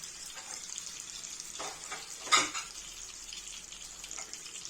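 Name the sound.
chopped onion cooking in a pan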